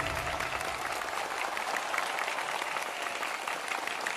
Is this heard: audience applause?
yes